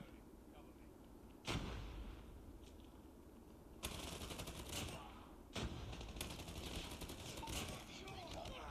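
Call of Duty gunfire rings out in sharp, loud bursts at regular gaps, the later volleys turning into rapid automatic fire over steady game background noise.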